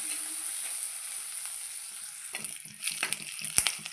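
Curry leaves and slit green chilies fry in hot oil in a pan, a steady broadband sizzle that grows busier near the end with a few sharp spatter pops and stirring scrapes.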